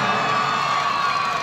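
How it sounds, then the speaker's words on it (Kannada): Crowd at the Tumakuru Dasara torch parade cheering and shouting in one sustained, loud roar of many voices, with no break. "ಅವ್ರಿಗೊಂದು ಜೋರ ಚಪ್ಪಾಳೆ ಬರಬೇಕು"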